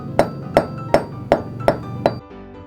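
Six sharp hammer blows strike at an even pace, each with a short ringing knock, as nails are driven into wooden baseboard trim along a wood floor.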